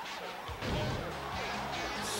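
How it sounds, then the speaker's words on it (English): Ambulance being smashed up in a wrestling video game, a sudden loud crunching crash followed by rattling, scraping impact noise that lingers to the end. "Smashing up the ambulance."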